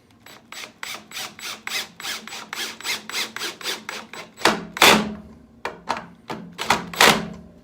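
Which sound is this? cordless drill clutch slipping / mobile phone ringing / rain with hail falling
cordless drill clutch slipping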